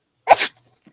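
A single short, sharp sneeze bursts out close to the microphone, followed by a brief faint sound and then silence.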